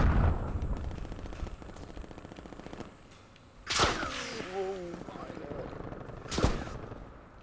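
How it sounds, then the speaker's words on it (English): Bursts of distant gunfire crackle through busy Call of Duty: Black Ops Cold War game action, with a couple of sharper loud shots standing out amid background noise. "I hear shots."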